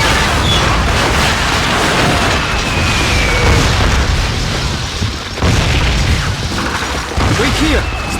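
Artillery explosions in the Call of Duty: Finest Hour video game, with heavy booms and rumbling blasts amid dense battlefield noise and a brief dip partway through.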